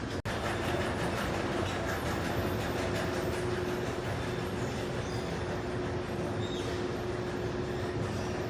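The San Francisco Airport AirTrain rides along with a loud, continuous rumble and hiss of the car in motion, a faint steady whine running through it and a sharp click near the start.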